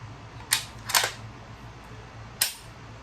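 Dry firing a P14 bolt-action rifle produces sharp mechanical clicks: two close together, a brief double snap, then one more click after a pause. The sounds are near and crisp over quiet room tone.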